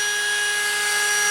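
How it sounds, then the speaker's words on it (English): A drill-driven pump runs on low speed while flushing a car heater core, giving a steady, unbroken high-pitched whine with a fixed tonal hum, close and continuous throughout. "I couldn't find a pump that plugged in, so I got a drill pump."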